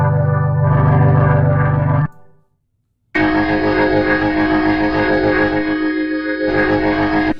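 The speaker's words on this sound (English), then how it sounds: "You can just crank that distortion out" Heavily distorted, sustained buzzing electric guitar tones from the Naroth Audio Mood Guitars virtual instrument, played loud and close, cut by a second of silence before another thick, saturated passage rings on.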